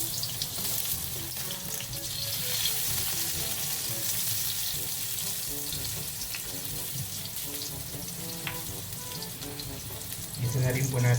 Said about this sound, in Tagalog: Pag mainit na po yung mantika, ilagay na po natin ang luya.